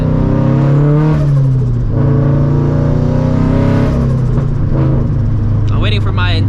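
Turbocharged 400-horsepower 2013 Scion FR-S with a straight-pipe exhaust under hard acceleration, a loud, close engine roar climbing in pitch through the rev range, briefly dropping at a shift, with a voice speaking over it.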